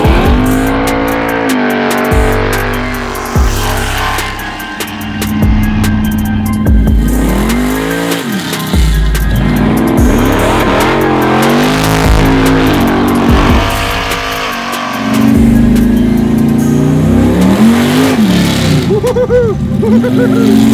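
An 800-horsepower supercharged big-block Camaro accelerates hard on a road drive, its engine roaring loud and close through repeated rising revs and gear changes, with a raspy blower whine over deep exhaust throughout.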